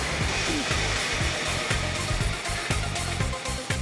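X-ray weld inspection equipment warming up beside the wall of an LNG storage tank gives a steady, loud whooshing hum with rapid regular pulsing ticks running through it.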